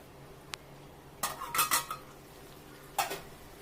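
A metal lid is set on a pot of mutton curry, giving a faint tap followed by a short cluster of clinking metallic clatter, then one more clink, in a quiet kitchen with no talk.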